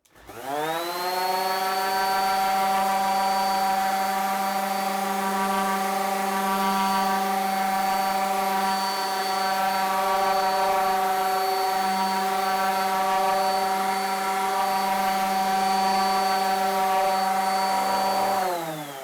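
A random orbit sander runs on a woodworking bench while tested on Gecko Bloc grip pads, producing a loud, steady motor whine with a rising start and constant pitch for nearly twenty seconds, close and alone.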